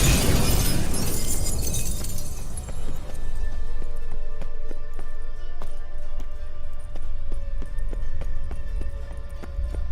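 A mirror shatters in The Witcher 3: Hearts of Stone, a loud crashing burst of breaking glass at the start, followed by a long run of tinkling shards and scattered clinks fading over ambient game sound.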